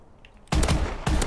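Rapid automatic gunfire from the video game Call of Duty: Advanced Warfare breaks out suddenly after a quiet moment, loud and close, in two dense bursts with a brief gap between them.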